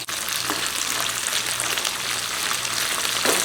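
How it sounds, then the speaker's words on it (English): Steady, loud sizzling and crackling of Brussels sprouts frying in hot olive oil, continuous throughout with occasional brief pops. "All right, these are frying up nice."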